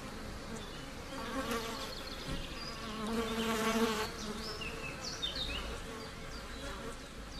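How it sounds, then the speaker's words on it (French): Flies buzz steadily around an eaglet in its nest, their faint, wavering drone rising and falling as they move closer and away. "L'aiglon est harcelé par les mouches qui perturbent aussi le sommeil de la chouette."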